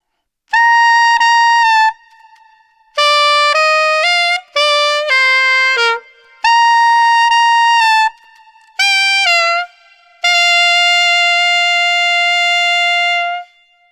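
A solo saxophone plays the Cagney & Lacey theme slowly in long sustained notes separated by short pauses, clear and close with no accompaniment.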